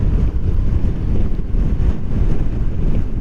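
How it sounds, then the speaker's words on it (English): Gusty wind buffets a rider on a Honda NC750XA motorcycle, producing a loud, continuous low roar of wind noise that swells and dips slightly without letting up. "It's a lovely day, but this wind is bloody awful. Very gusty, you know."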